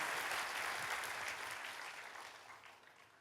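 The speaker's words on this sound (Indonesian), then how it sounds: "Oh, berikan tepuk tangan buat Allah kita." Applause from a church congregation at an Indonesian Sunday service, a dense wash of many hands clapping together, steady at first and then slowly thinning and fading out.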